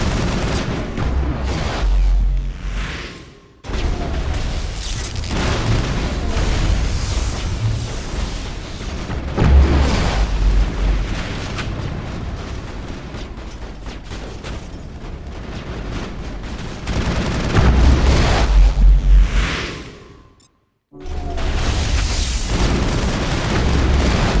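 Rockets explode in Mass Effect combat, repeated heavy booms and rumbling blasts with gunfire crackle between them, loud and close, with a brief drop to silence near the end.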